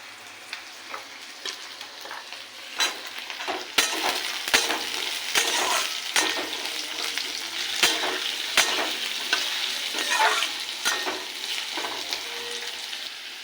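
Diced potatoes and garlic frying in a pan for a matar ghugni, a steady sizzle with frequent stirring clicks and scrapes, close and without talk.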